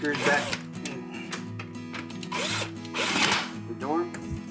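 A power drill whirs in short bursts as it drives screws back into the door of a Frigidaire dishwasher during a main board repair. The motor rises and falls under a voice speaking nearby.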